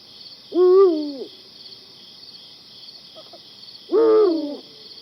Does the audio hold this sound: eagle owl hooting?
yes